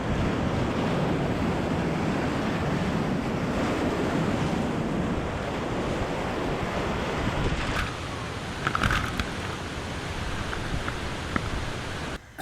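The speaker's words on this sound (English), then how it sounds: "you suddenly see these rapids look quite intimidating and the waves are big" Big, intimidating whitewater rapids on the Karnali River, a steady loud roar of churning waves that fills the whole clip, with faint wind buffeting and a few brief higher splashes near the end.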